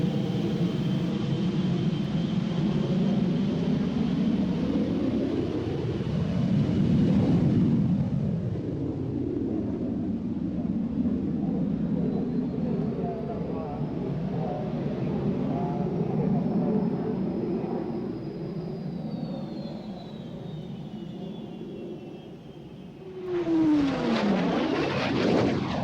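Strikemaster jet aircraft taxiing at an airshow, a loud steady engine roar with a drone that rises and falls in pitch, briefly swelling as it passes near, then a sharp rising whine near the end.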